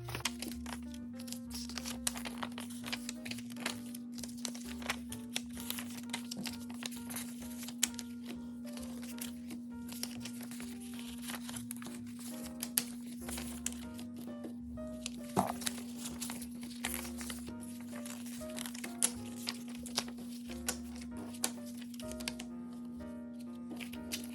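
Cash bills and envelopes handled and sorted for a savings challenge, a long run of quiet crinkling, paper rustles and soft taps under a steady low hum.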